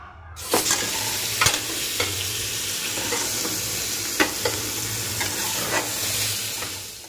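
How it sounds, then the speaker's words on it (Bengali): Two chopped onions fry in extra oil in the pan just used for frying eggs for an egg and potato curry, a steady close sizzle broken by several sharp stirring scrapes. "ওই তেলের মধ্যে অল্প আরেকটু তেল দিয়ে দেব কেটে রাখা দুটো পেঁয়াজ কুচি"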